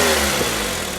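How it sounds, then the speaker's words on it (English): A car engine with an exhaust leak where the manifold meets the downpipe revs steadily, a loud continuous roar with a rasping, puffing edge that holds close and sustained throughout. "I'll rev it up for you so you can hear it"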